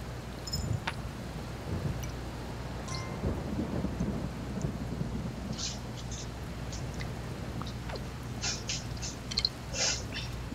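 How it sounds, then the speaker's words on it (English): Rain falls steadily in the video game Kingdom while low thunder rumbles on and off, with scattered sharp drops and crackles above the downpour. "Sure, it's raining."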